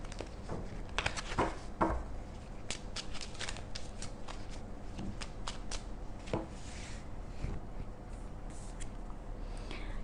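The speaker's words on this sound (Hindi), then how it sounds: "हमें कई बार कार्ड्स डिफरेंट वे से शफल करने पड़ते हैं।" Tarot cards being shuffled by hand, a dense run of quick papery riffles and slaps lasting throughout, close and fairly loud with no talking.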